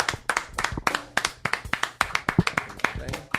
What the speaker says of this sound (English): How about a nice round of applause for Chris Fairbanks?